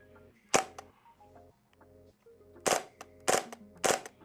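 Krytac Kriss Vector gas blowback airsoft gun fires sharp close pops, one shot then a short cluster of three quick bursts, each crack loud and snappy against a quiet room.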